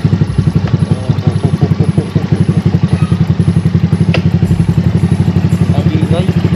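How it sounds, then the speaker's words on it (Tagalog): Yamaha Mio 63BV 199cc scooter fitted with an M3 Sharktip exhaust pipe, running with a loud, steady rapid pulsing thump and clatter close by, the engine rising and falling slightly throughout. "Napakaingay ng tambuchi natin mga tol."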